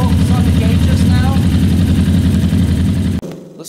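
Motorcycle engine idling with its carburetors badly out of sync, a loud, close, lumpy low rumble with an uneven pulsing beat that cuts off abruptly near the end, leaving a brief quieter tail.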